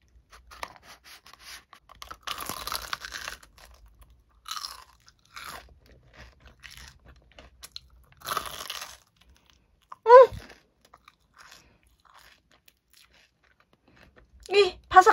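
Crisp crunching bites of a hot, flaky apple pie, a few loud crackly chews spaced apart, close to the mic, with quieter chewing between.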